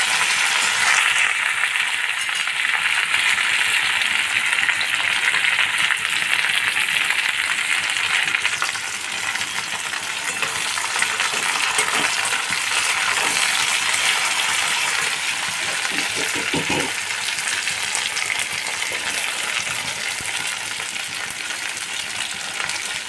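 Capsicum frying in a pan while a five-vegetable and paneer dish is cooked, with a loud, steady hiss and crackle of sizzling oil throughout, a few clinks of a utensil against the pan partway through.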